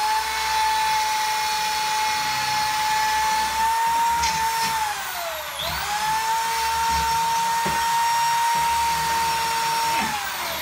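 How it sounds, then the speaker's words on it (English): A power drill whines steadily at high pitch indoors in a living room, its motor dipping briefly under load midway before spinning back up, close and continuous. "Here I am in my living room still drilling"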